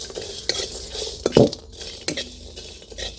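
Black pepper, cinnamon and cumin dry-roast in a pan over a wood-fired stove as a utensil stirs them, making a few scrapes and light metallic clinks over a faint, quiet sizzle.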